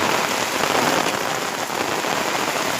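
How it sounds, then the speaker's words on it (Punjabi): Torrential rain falling in village lanes, a constant loud wash of splattering drops that stays even throughout, with no talking. "ਦੇਖੋ ਦੋਸਤੋ ਕਿੰਨਾ ਮੀਂਹ ਪੈਂਦਿਆ"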